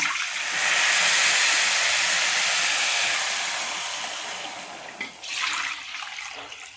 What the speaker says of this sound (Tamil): அதில் ரெண்டு கப்பு தண்ணியை நம்ம விட்டுக்கிடலாம்